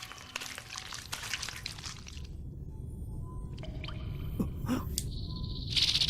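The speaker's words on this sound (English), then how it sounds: "It's this dripping sound again." Water drips in a dark cave-like scene in Utawarerumono: Mask of Deception, sparse wet plinks and squishy drops over a low rumbling ambience, with a brighter tone near the end.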